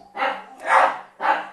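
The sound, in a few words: dogs barking, excited by a cat on the wall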